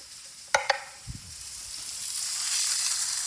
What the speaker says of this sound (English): Don't forget to keep sauteing your mushrooms so they got a nice little brown